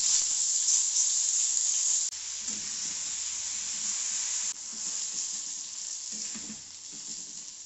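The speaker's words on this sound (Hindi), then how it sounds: "अब मैं इसमें तड़का लगाऊंगी," Mustard oil sizzling in a pan for a tadka, a steady bright hiss with small changes as ingredients go in, close and continuous without talk.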